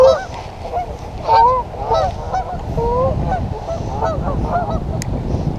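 Geese honk repeatedly near water in Illinois, a string of loud, close, nasal calls that overlap unevenly over a low background rumble, with no talk.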